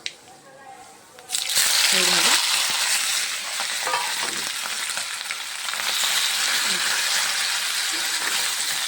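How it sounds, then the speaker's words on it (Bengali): Beans tipped into a hot frying pan in a home kitchen in Assam, setting off a sudden loud, steady sizzle that carries on with stirring and scraping, while a voice speaks now and then over it. "আর এখন দিয়ে দেবো আমি সিমগুলো এর মধ্যে"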